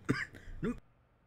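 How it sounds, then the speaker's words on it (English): A single person nearby coughs and clears their throat in two quick, fairly quiet bursts, followed by near silence. "Sorry, trying to hold back a cough."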